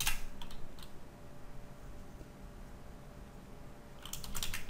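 Keys clatter in quick clusters as a terminal command is typed on a computer keyboard under Ubuntu Linux. A burst of typing comes at the start, the middle stays quiet, and a final flurry of keystrokes comes near the end.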